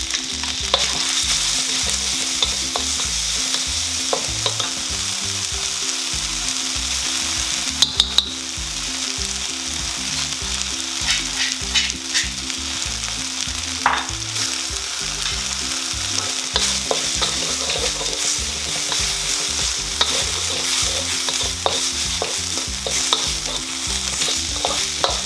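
Chili seasoning sizzles in hot oil in a pan as rujak cingur is made, a steady loud frying hiss with occasional stirring scrapes and no voices.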